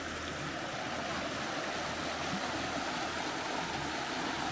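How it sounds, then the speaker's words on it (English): The Virgin River in Zion flowing as a steady, broad rush of stream water with no breaks, faint and continuous. "especially with the sound of waters burbling"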